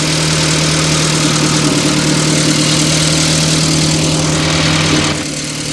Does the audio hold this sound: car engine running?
yes